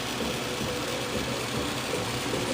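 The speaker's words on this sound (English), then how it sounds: "See how it's running? It's not shaking. It's not making weird noises. The car is running." A car engine idles steadily just after starting on one crank, a smooth, continuous mid-pitched hum with no shaking or irregular knocks, heard alone without voices.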